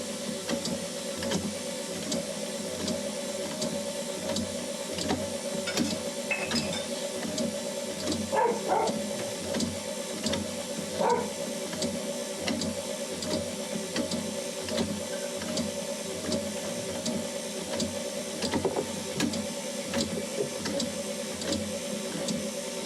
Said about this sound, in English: whisk all of that together with the whisk attachment from the KitchenAid